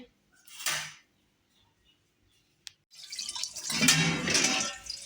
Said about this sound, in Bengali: সকালবেলা উঠে এখন প্রথমত কাজ বাসন ধোয়া